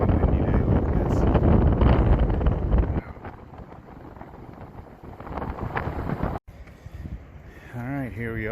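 Strong wind buffets the microphone on a hike at Natural Bridge, with loud, gusty rumbling at first and then a steadier blow, while people talk over it.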